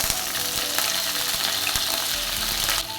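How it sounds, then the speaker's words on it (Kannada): Chana dal and dry red chillies fry in hot oil with mustard seeds, cumin and urad dal for okra fry, giving a loud, dense, continuous sizzle with faint stirring scrapes, close up and without voices. "ಕಡಲೆಬೇಳೆ, ಒಣಮೆಣಸು ಇದನ್ನು ಹಾಕಿ ನೀಟಾಗಿ ಫ್ರೈ ಮಾಡಿಕೊಳ್ಳುವ"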